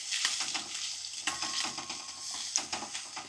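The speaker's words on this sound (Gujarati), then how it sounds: "હવે આપણે બધું આ મિક્સ કરી લેવાનું છે" Onions with ginger-garlic-chili paste and curry leaves sizzle steadily in a frying pan while a spoon stirs them with repeated scraping strokes, close and continuous.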